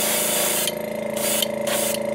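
Copper paint hisses from a sprayer onto a crawdad fishing lure in steady close bursts, the spray cutting off briefly a few times between passes.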